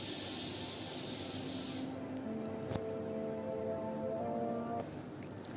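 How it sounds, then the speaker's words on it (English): A batch of aloo tikkis sizzles in hot oil, a bright, steady hiss for nearly two seconds before it drops away to a faint background with soft tones. "Now I'll fry the next batch."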